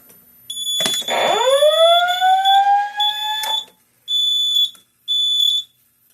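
A loud electronic Simplex fire alarm panel re-alarm starts with a rising whoop, holds a piercing tone, then pulses in short repeated bursts with gaps between.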